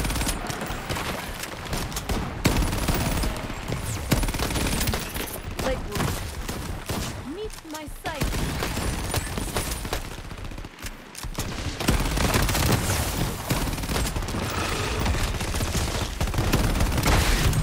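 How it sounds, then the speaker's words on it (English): An orb weapon in the video game Shatterline fires at an enemy amid a dense, continuous barrage of loud, crackling gunfire-like blasts that run nearly unbroken, with brief dips in between. "I can fire the orb at the enemy now"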